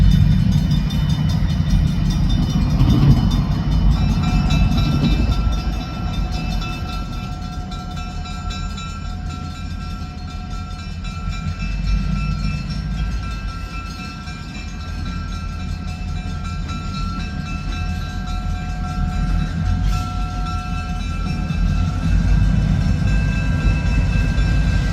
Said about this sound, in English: Just 2 locomotives.